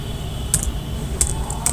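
A few sparse keystrokes as a Linux command is typed on a computer keyboard, soft isolated taps over a steady hum, with no talk.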